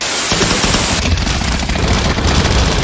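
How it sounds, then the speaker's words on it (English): Loud, continuous gunfire fills a sewer fight in the VR shooter Pavlov's zombie mod, a dense barrage of overlapping shots and booms with no break. "Shoot him until he slows down so I can kill him."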